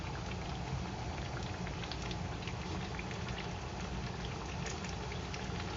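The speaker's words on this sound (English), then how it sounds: "Frying Sweeney Todd's most delicate treat." Steady, dense crackling and sizzling of meat pies deep frying in hot oil, continuous and close, with no pauses.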